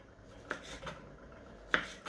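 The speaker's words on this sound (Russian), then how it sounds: "Нарезаем помидорку." A few soft, crisp cuts of a knife slicing a tomato into strips on a board, spaced irregularly, close and quiet with no talking.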